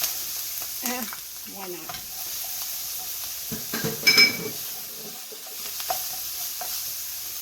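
Garlic sizzles in a hot pan for shrimp and mushroom marsala, a steady close frying hiss broken by stirring scrapes, with a few brief spoken words.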